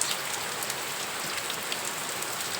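Heavy monsoon rain pours steadily onto surfaces, a dense, even hiss of countless drops, close and continuous with no voices.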